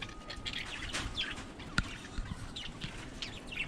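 A hen inspecting a nest box gives soft, scattered clucks and short chirps nearby, with rustling and a sharp tap, faint over the background of a farmyard coop.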